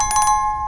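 A short electronic notification bell chime, a quick cluster of bright ringing strikes followed by a sustained clear tone that fades, loud and alone.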